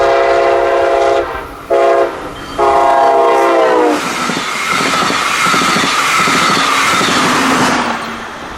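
A Brightline train on the FEC line in Pompano sounds a loud, near multi-tone horn in several blasts, then roars past with heavy rumbling and rail clatter that fades slightly at the end.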